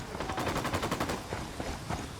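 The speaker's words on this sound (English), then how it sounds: "That's it, we're clear. Opening fire." Rapid automatic gunfire in the tactical shooter Ghost Recon Wildlands, a quick string of sharp shots in a burst followed by scattered single shots, moderately loud against steady game ambience.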